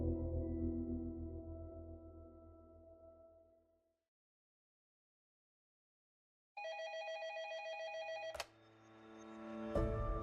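An office telephone rings in repeated bell bursts, then falls silent, then rings again with a brighter electronic tone broken by sharp clicks.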